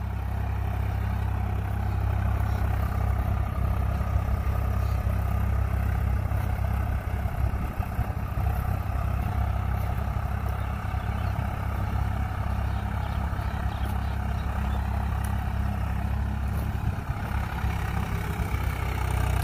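Tractor engine running steadily through a mileage test, a continuous low rumble at a constant level with no talk.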